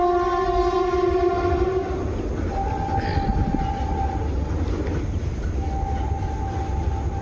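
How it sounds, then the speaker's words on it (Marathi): A loud train rumbles past continuously over a bridge, with a long horn blast at the start and shorter horn tones later. "आली ट्रेन आली वरती ट्रेन आहे"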